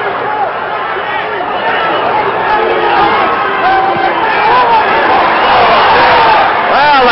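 Boxing crowd at the Muhammad Ali vs Alfredo Evangelista fight, a loud, steady roar of voices that swells slightly toward the end, with shouts and chatter mixed throughout.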